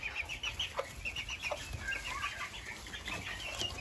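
Miniature Aztec roosters cluck in a series of short, scattered calls over a steady farmyard background, fairly close and moderately loud, with no talking.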